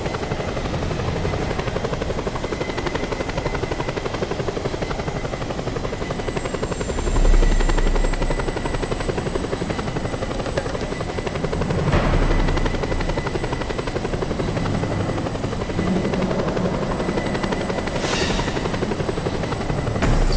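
In the Just Cause 2 video game, helicopters fly with a steady, buzzing rotor drone that holds on for a long stretch, mid-level in volume and unbroken by talk.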